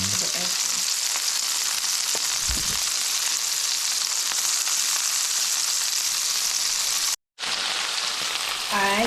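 An egg fries in a pan with a steady, dense sizzle that runs without a break, cut by one brief silence, with a faint clink near the start.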